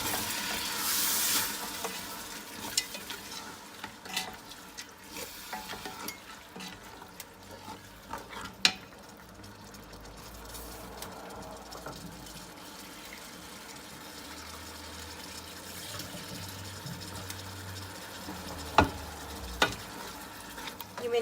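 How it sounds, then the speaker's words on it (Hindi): Washed chana dal goes into a hot pan for a dhaba-style dal and is stirred while it fries, giving a steady soft sizzle with scraping and stirring strokes and a few sharper clinks throughout, close and fairly quiet. "और अब इसके अंदर मैं ये दाल जो है अपनी दाल धो के डाल दूंगी।"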